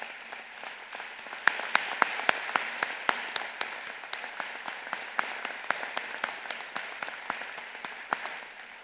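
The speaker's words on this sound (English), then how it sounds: "give them a resounding applause one more time" A graduation commencement crowd applauds faculty and staff, a steady wash of many hands clapping with sharp individual claps standing out throughout.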